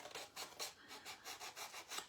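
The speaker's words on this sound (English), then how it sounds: "I'm going to sand the edges with the handy dandy little sander" A small handheld sander works the edges of a wooden spring bunny wreath, a steady series of rhythmic abrasive rubbing strokes, close and fairly quiet, about eight passes in two seconds with no talking.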